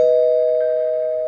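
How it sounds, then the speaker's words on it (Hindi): A single electronic chime rings out clearly and sustains, slowly fading like a doorbell tone, with nothing else around it. "कुछ देर बाद देव, बुबू और राघवान एक घर के बाहर जाकर घंटी बजाने लगे।"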